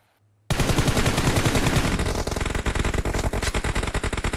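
Gunfire in PUBG Mobile erupting after half a second of silence, a loud sustained burst of automatic fire that settles into steady rapid shots, close and dominant throughout.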